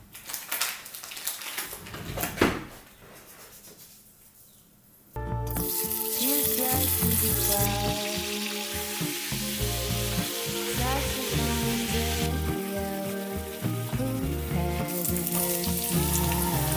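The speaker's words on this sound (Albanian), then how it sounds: "do skuqim ngjallat vetëm me pak krip edhe në vaj" Eels fry in oil with a little salt in a pan, crackling and sizzling for about five seconds before loud music with singing takes over and buries the cooking sound.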